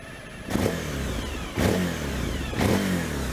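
A Suzuki V-Strom 1000 motorcycle engine revs up three times in steady succession over a continuous running drone, fairly close, with no voices.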